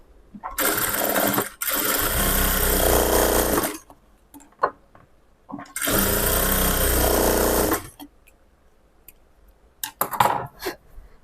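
A sewing machine stitches a lining blouse in two loud, sustained runs of rapid whirring separated by a pause, followed by light clicks and handling noises.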